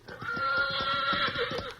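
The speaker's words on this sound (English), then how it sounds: "I won't get on the horse, so it's no use bringing him out." A horse neighs in a long, loud whinny close by, with hoof clip-clops thudding rhythmically underneath in an old western radio drama.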